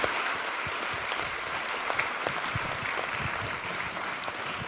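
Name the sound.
audience applause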